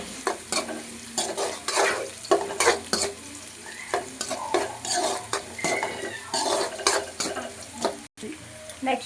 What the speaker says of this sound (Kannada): ಈರುಳ್ಳಿ ಮತ್ತು ಈ ಕರಿಬೇವು, ಬೆಳ್ಳುಳ್ಳಿ ಎಲ್ಲ ಫ್ರೈ ಆಗಿದೆ.